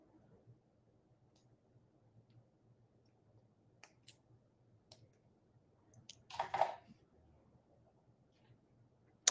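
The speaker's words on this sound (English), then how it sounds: "while I put my watch on" A wristwatch being fastened onto a wrist gives a quiet cluster of clicks and a brief rustle of strap handling near the middle, with faint scattered ticks otherwise against a low room hum.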